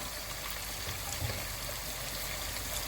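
Mussel cooking liquid is poured into a seafood sauce in a home kitchen, a steady soft trickling stream of liquid lasting the whole moment, with no talking.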